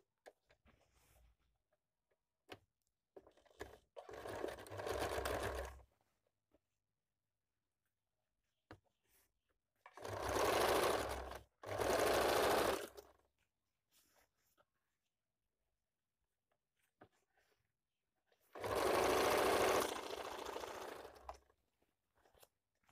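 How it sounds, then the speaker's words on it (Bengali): A sewing machine stitches the side seams of a semi-Patiala salwar in four short runs, each a brief burst of rapid whirring, separated by quiet gaps with faint handling clicks. "দুটো সাইডকে আমি সেলাই করে দিচ্ছি এভাবে"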